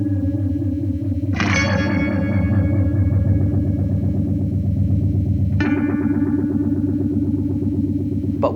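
Electric guitar runs through a Supercool Pedals Triniphase phaser pedal at a fast 8-stage speed, two loud chords each sustained and swirling with rapid pitch wobble and chorus-like shimmer, with no voice.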